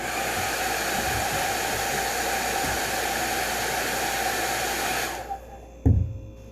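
A heat tool blows a steady, loud rush of air over nail wraps for about five seconds, then cuts off with a clunk as it is set down.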